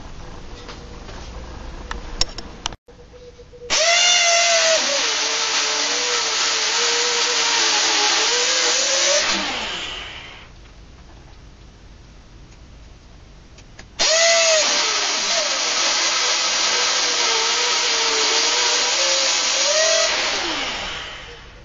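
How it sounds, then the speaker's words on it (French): Drilling screw holes in steel squat rack columns with a power drill, two long whining runs of steady grinding bite separated by a quieter pause, loud and close, with no talking. "là je perce les trous pour les vis"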